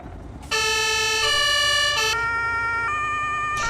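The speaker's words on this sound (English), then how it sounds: "There's got to be a way to turn the siren down a little bit." An emergency beacon siren in Farming Simulator 22 starts suddenly and wails continuously, loud and close, its tone stepping between pitches with no talk over it.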